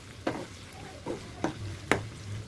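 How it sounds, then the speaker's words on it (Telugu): Ginger frying in hot oil for mutton pickle, four short scraping stirs of a spoon against the pan over a faint background sizzle. "అల్లం వేగే వరకు వేయించుకోవాలి"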